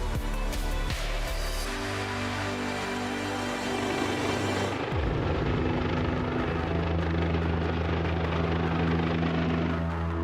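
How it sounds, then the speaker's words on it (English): A large helicopter's heavy rotor thrum and engine roar build loud and close over AlUla, Saudi Arabia, with a deep pulsing drone filling the air as it approaches. "When the massive helicopter we've lined up comes roaring in"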